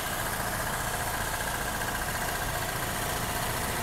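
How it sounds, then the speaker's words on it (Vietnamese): A 2009 Daewoo Gentra four-cylinder car engine idles steadily at close range, a smooth, even hum with no audible misfire or shake, running alone without talk. "máy nổ rất là đầm và rất là cứng cáp của máy nha, không có rung, không có nhảy gì hết á"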